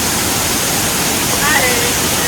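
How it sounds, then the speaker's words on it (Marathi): Steady, loud roar of falling water at a waterfall below an overflowing dam, a dense continuous wash close to the microphone with no talk. "चला आता वॉटरफॉलमध्ये जरा मजा करू"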